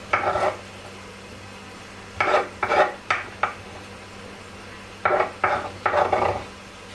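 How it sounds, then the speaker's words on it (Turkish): Chopped onions tumble into a bowl in several short bursts, a rustling clatter repeated in quick clusters with pauses between, close and fairly clear. "doğradığım soğanlarımı da kabımın içine ilave ediyorum."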